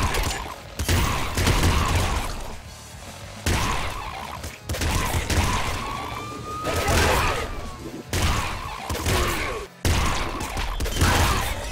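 Loud, dense bursts of gunfire crackle from the top-down shooter game Nuclear Throne, arriving in several rapid volleys separated by short gaps.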